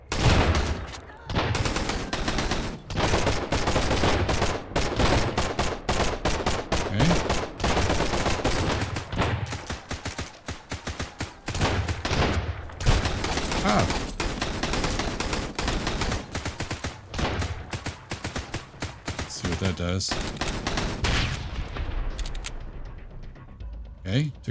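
Gunfire in the video game Sunkenland crackles as rapid, dense bursts of shots close by, nearly continuous for the whole stretch and fading near the end, with someone talking in places.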